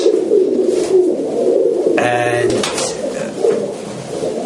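Tumbler pigeons coo in soft, repeated low throaty calls, close and fairly loud, with a brief brighter fluttering burst midway and someone speaking briefly over them.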